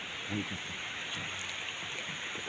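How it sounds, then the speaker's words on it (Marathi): Shallow rocky village stream in Kajarad, where crabs are caught under stones, flows slowly with a steady, even wash of water, with a faint murmur of low voices in the background. "हे बघा पाणी हळूहळू जाऊचं लागतं"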